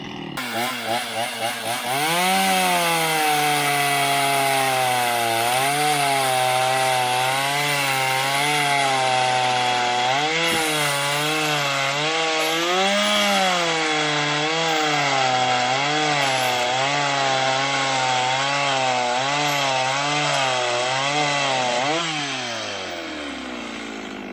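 A chainsaw with a heavy-duty chain on a 14-inch bar cuts through wood on a large sawhorse, loud and close, its engine pitch rising and dipping as it bogs under load through a long cut before revving down at the end.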